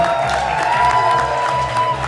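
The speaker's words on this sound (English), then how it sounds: "Can we get another round of applause for Deanna and her amazing piece over here?" An evening event crowd in Ottawa applauds an artist's piece with sustained clapping, blended with some cheering and a steady tonal hum underneath.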